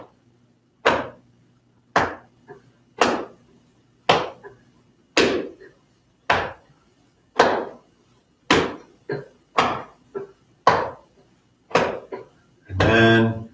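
Hands pat the torso during qigong practice in a slow, even rhythm of about a dozen firm, hollow slaps roughly a second apart, close and clear, ending with a longer rustling thump.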